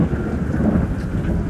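Steady rain pours down with a low, rolling rumble of thunder underneath, a continuous dense wash of storm noise throughout with no voices.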